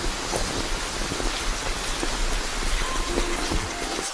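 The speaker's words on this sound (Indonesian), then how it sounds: "Hujannya gede banget." Heavy rain pouring down as a dense, steady hiss with scattered drops striking a surface nearby, loud and continuous with no talking.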